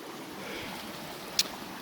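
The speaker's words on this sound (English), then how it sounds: "So this is North Cheyenne Creek" North Cheyenne Creek in Cheyenne Canyon, Colorado Springs, makes a soft, steady wash of flowing water throughout, with one brief sharp click near the end.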